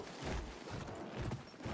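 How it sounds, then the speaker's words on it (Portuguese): Horse hooves clip-clopping across a map in the Battlefield 1 video game, a steady galloping rhythm of low thuds repeating throughout at moderate loudness. "de cavalo a gente dá uma andada boa no mapa"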